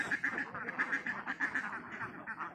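A flock of ducks quacks continuously and rapidly, the calls overlapping in a busy, close chorus, at a duck farm.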